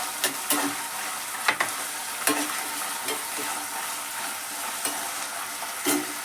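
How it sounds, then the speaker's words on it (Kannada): Green chillies and capsicum fry in hot oil with a constant bright sizzle, broken by sharp scraping clicks of a stirring spoon against the pan, close and steady without speech. "ಇವಾಗ ನಾನು ನೋಡ್ರಿ ಹಸಿ ಮೆಣಸಿನ್ಕಾಯಿ ಹಾಕ್ತೀನಿ. ಅದ್ರ ಜೊತೆ ದಪ್ಪ ಮೆಣಸಿನ್ಕಾಯಿನೂ ಸ್ವಲ್ಪ ಹಾಕ್ತೀನಿ."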